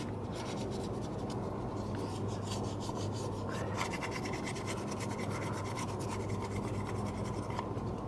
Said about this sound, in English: You're going to use your sandpaper.